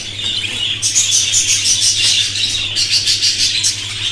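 Budgerigar chicks in a nest box, giving a continuous stream of high, rapid cheeping and chirping that swells into pulsing bursts, close and fairly loud over a steady low hum.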